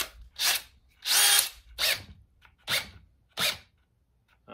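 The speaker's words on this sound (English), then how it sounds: "Ooh, it's got a hammer option too. Hammer drill option." Short bursts of a DeWalt cordless hammer drill, about six pulses separated by brief pauses, loud and close with no talking.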